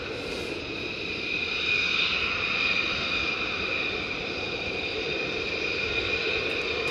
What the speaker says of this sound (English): Get ready for some afterburner action